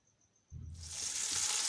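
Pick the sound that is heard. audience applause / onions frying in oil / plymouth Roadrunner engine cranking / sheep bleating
onions frying in oil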